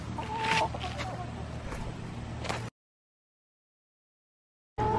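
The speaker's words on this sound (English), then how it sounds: "Come on, little chickens." Chickens cluck close by with a few sharp squawks, then the sound cuts out into silence before briefly returning.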